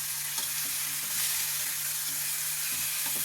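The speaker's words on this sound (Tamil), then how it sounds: "கருவேப்பிலை தாளிச்சிட்டு இந்த வெந்த பீன்ஸ் எடுத்து அதில் போட்டுக்கலாம்" Boiled beans tossed into a curry-leaf tempering and stirred in a pan, a steady close sizzle of frying with soft scraping stir strokes scattered through, no voices.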